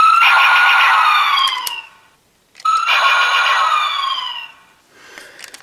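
A loud electronic siren from a DX Cyclone Dial Fighter toy (Lupinranger VS Patranger) wails in two long sweeping bursts with a short gap between, tinny and close, ending in softer beeps.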